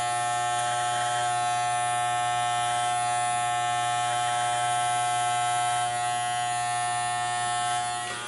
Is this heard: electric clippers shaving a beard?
yes